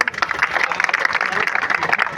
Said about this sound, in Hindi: बहुत ही मजबूत कार्यकर्ता है, तालियों से स्वागत करें